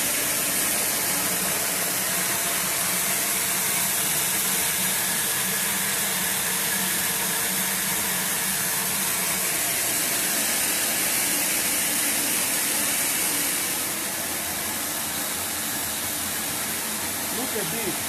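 PACKINT chocolate machine stirrer turning through cocoa mass made from Dominican Republic cocoa liquor, a steady loud hissing mechanical drone with no pauses, slightly quieter toward the end.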